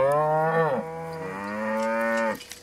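A mature beef cow on an Arkansas cow-calf farm moos twice, loud and close, with a short break between two long, drawn-out calls.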